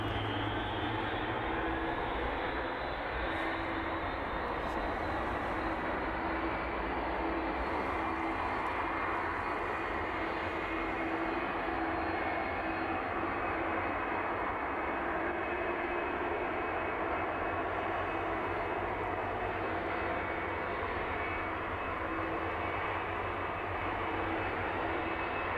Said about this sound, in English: That one should taxi down to the start of runway 27. Right past us this evening.